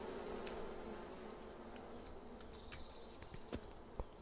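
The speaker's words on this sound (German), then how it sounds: "Ich verstehe nicht, warum es da gesummt hat." An insect buzzes in the video game Bear Simulator, a faint, steady drone under soft ambient game noise with a few small clicks, and no talking.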